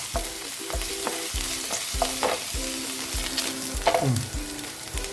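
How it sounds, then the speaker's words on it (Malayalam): Chopped green chillies and ginger frying in a pan, with a constant hiss of sizzling oil and a regular series of scraping stirs, about one every half second, close and fairly loud, with no voices. "രണ്ട് പച്ചമുളക് ചോപ്പ് ചെയ്തത് ഇട്ട് കൊടുക്കാം ഒന്ന് ചെറുതായിട്ട് വാടി വരണം അതുവരെ ഇളക്കി കൊടുക്കാം"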